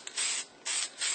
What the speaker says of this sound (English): I'm not spraying the entire paint on the painting. Just the mist.